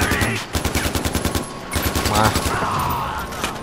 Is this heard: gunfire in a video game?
yes